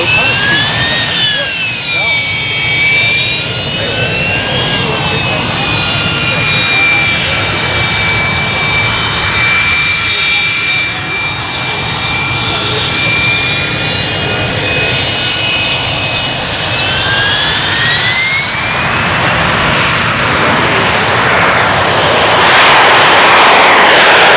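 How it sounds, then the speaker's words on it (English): A Harrier jet performing a vertical takeoff at the 1993 Clark County air show gives a loud, steady whining jet roar with shifting high-pitched tones that hold for most of the stretch, while a voice talks over it. "The Harrier can perform vertical takeoff for prepared service"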